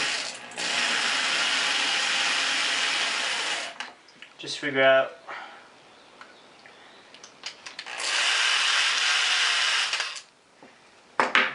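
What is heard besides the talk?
drilling screws into wood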